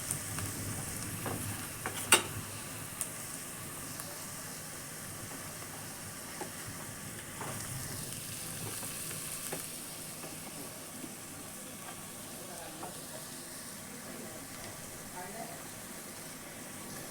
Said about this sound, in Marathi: सो आतां हें बरें मातशें फ्राय करून घेवया.